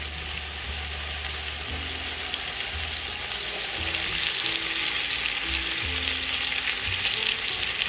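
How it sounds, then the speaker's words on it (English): One pound of ground turkey frying in olive oil in a pan gives a constant, close, crackling sizzle, with a few low thumps and stirring scrapes underneath. "I'm gonna drop this 1 pound of turkey meat right down in that spot."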